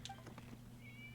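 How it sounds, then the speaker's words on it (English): A cat in the Genshin Impact video game gives a short, faint meow, a brief soft cry against quiet background hum. "It was just a cat."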